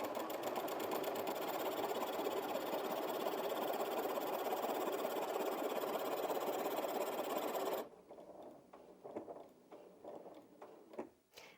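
A Janome 5270QDC sewing machine stitches through layered fabric with the needle down and extra lift engaged: a loud, fast, steady mechanical whir with rapid ticking for about eight seconds, then stopping, followed by a few scattered light clicks.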